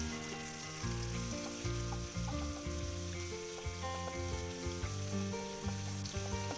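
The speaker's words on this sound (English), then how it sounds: "Mix it well and fry for 2 minutes." Pork with bamboo shoot fries in a pan with a steady, close sizzle and occasional stirring scrapes, partly masked by background music.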